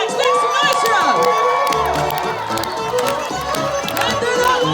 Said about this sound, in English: You got to cheer on your lumberjacks.